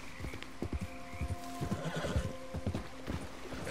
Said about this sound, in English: That horse already freaking out.